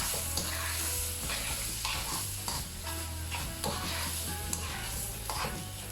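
Rice, 250 grams of it, stirred in a paella pan for a mixed paella: steady scraping strokes repeat through the whole stretch over a continuous close sizzle, with no talking.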